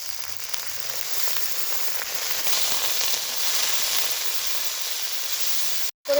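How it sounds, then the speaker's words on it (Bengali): Spice paste with ginger-garlic, salt, turmeric and a splash of water frying in a pan, a loud steady hissing sizzle throughout with faint stirring, close, cut off abruptly near the end, no talking. "জলের ছিটা দিয়ে মশলাটা কষে নেব।"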